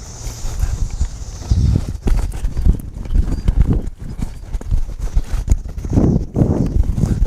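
A cutting horse's hooves clip-clop on arena ground while the horse works a cow, giving an uneven series of thuds and scuffs that are close and fairly loud.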